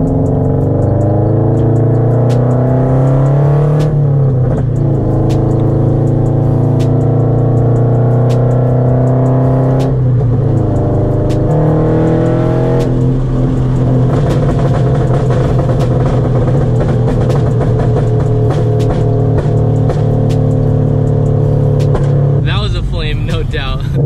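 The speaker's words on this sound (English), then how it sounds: "I will let you guys enjoy the exhaust of this FRS" A lowered Scion FR-S drones loudly while being driven, its exhaust note rising through the gears with repeated revving climbs and shifts, a close, continuous engine tone throughout.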